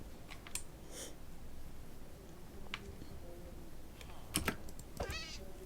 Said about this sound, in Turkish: Kedi var burada.